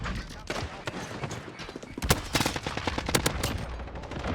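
An AN-94 rifle in a video game fires fast two-round bursts. The sharp, loud shots come in quick clustered pairs, one burst after another, over a low background.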